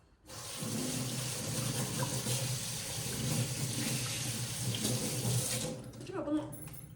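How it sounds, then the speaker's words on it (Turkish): Hands are washed under a running tap, a steady close splash and rush of water that starts abruptly, carries on for several seconds and then cuts off with a few drips and handling sounds. "birazcık elimi yıkayayım"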